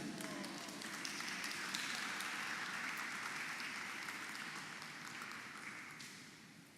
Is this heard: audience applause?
yes